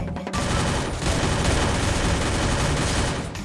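Sustained rapid SMG fire in the video game Free Fire, a loud, dense rattle of shots running almost continuously for several seconds with only a brief lull near the start.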